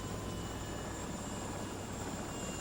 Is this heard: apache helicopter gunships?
yes